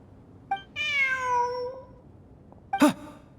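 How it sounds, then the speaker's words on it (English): A cat in the video game Genshin Impact gives a short chirp, then a long drawn-out meow, and a brief, sharper meow follows a moment later, all clear against a quiet background. "Look! A cat!"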